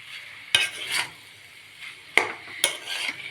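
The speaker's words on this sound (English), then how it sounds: "Mix everything together." Spiced potato samosa filling with turmeric and black pepper mixed in a pan, with a few distinct scrapes and clinks of a spoon at irregular intervals over a soft background hiss, close up.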